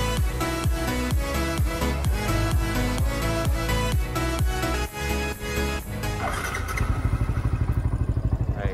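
A Yamaha Y15ZR motorcycle with a worn one-way starter bearing cranks in rapid, even clattering pulses that fail to catch, then shift to a faster, rougher chatter near the end; loud and close with no talk.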